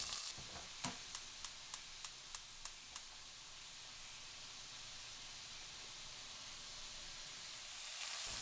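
Pork ribs searing in a hot stainless steel pot give a faint, steady hiss and sizzle throughout, opened by a quick series of about eight evenly spaced sharp clicks, swelling slightly louder at the very end.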